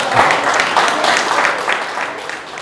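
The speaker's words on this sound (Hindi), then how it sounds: "अरे हमारे मदन लाल जी के लिए ताली बजा दो" An audience at a network marketing leadership training session breaks into steady applause for Madan Lal ji. The clapping is dense and continuous throughout.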